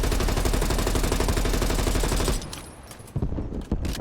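Automatic XM4 rifle fire in the video game Black Ops Cold War, a loud, rapid continuous burst of shots with no attachments for about two seconds, then stopping and leaving a few scattered quieter shots and clicks.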